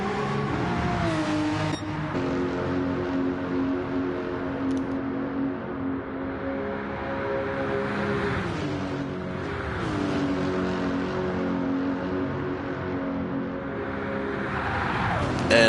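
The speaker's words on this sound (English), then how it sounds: "And listen to the exhaust on that Lexus GT3 race car." A Lexus GT3 race car in a Gran Turismo 7 Gr.3 team race at the Nurburgring 24 gives a loud, sustained exhaust roar that rises and falls with gear shifts and revving, with no voices.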